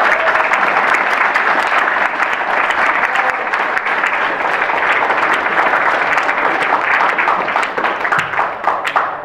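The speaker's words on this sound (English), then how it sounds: "So let's just give them a round of applause." Sustained audience applause fills the hall after a church Christmas outreach performance of A Christmas Carol, loud and dense for about nine seconds, tapering slightly near the end.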